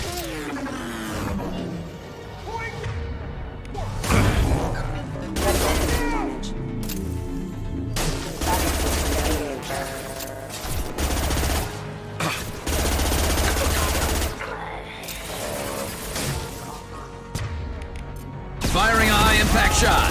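Rapid gunfire from the video game Mass Effect 2, bursts of automatic shots and heavier blasts in close, loud volleys separated by short pauses, with game sounds and voices around them.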